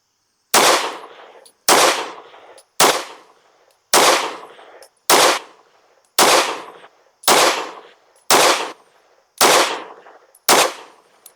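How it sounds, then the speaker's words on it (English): An Anderson Kiger-9C Pro carbine fed from a Glock 17 magazine fires ten CCI 115 grain Blazer rounds, each a loud, sharp shot, evenly paced about one second apart with brief decays between. No one talks. "10 rounds of the CCI 115 grain Blazer. Let's shoot a group at that top left."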